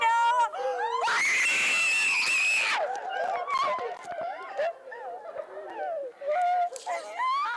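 A surprised girl lets out loud, shrill squeals and screams as she walks through a door, a sustained burst lasting about two seconds, followed by excited voices and chatter.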